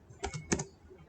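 Keystrokes on a computer keyboard while filling in a web form, two short clustered bursts of clicks, close and clear, with no talking.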